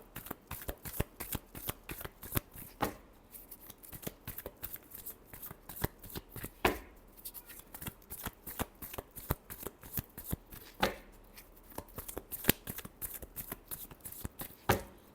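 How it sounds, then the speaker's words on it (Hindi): Tarot cards are shuffled by hand in repeated riffling bursts with sharp slaps and taps, close and crisp, running continuously with no voices. "last shuffle"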